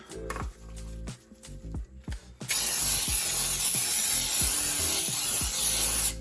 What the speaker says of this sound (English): I'm going to start by lightly spraying with pan baking spray